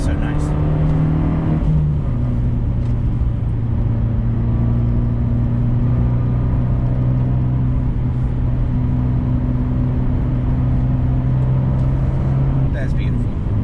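2020 Fiat 124 Spider Abarth on all-season tires cornering at about 50 to 60 mph, a steady engine drone and road rumble from inside the cabin, the pitch shifting slightly through the bends.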